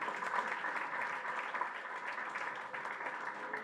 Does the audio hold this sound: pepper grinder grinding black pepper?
no